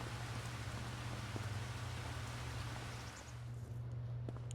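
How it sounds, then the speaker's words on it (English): Rain in the farming game Farming Simulator 25, a steady dense hiss of falling drops with a low hum beneath, easing slightly near the end. "I guess we'll hop to it as soon as the rain stops."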